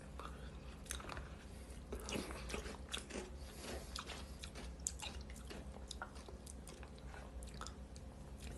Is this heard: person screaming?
no